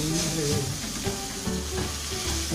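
Garlic chives stir-fried in a hot pan for Thai fried mee sua noodles, giving a loud, continuous close sizzle with scraping and stirring throughout and no talking.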